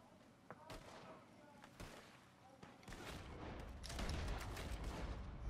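Gunshots in Red Dead Redemption 2 Online, a few scattered shots followed by a denser, rumbling stretch of firing and booms, with a voice speaking in places.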